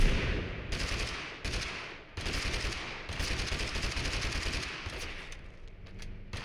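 Rapid bursts of gunfire in Totally Accurate Battlegrounds, loud and close, firing in repeated volleys with short gaps and a brief lull midway.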